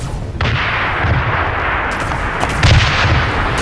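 Rapid gunfire from a Super Mecha Champions match fills the scene, a dense, loud barrage of overlapping shots and booming blasts with a few sharper bursts standing out.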